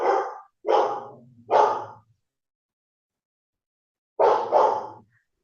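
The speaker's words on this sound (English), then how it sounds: "Sorry, it's my dog." A dog barks close by in a quiet indoor room: three sharp barks in quick succession, a pause, then a final double bark.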